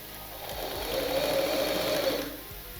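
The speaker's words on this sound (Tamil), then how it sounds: "இப்போ ஒரு மடிப்பு மடித்து சுத்தமாக திருப்பி அடிச்சிடலாம்." A sewing machine stitches along a folded blouse piece in one short continuous run, a steady whirring buzz that swells and then fades, close up and alone.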